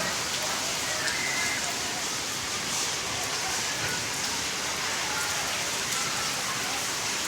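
Heavy rain driven by wind pours down steadily on an evening, a dense, continuous roar of falling water with no break across the whole stretch, fairly loud and even.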